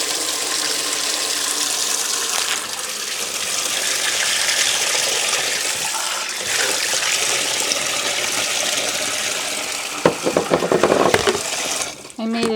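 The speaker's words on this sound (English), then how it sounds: "I'll use hot water to dissolve my salt." Hot water pouring and splashing steadily into a container for dissolving salt, a continuous rushing gush that turns into brief clattering and stirring near the end.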